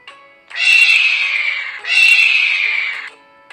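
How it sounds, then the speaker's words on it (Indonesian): Eagle call: two long, loud, screeching cries of about one and a half seconds each, close and alone, with a brief gap between them. "Burung raja wali."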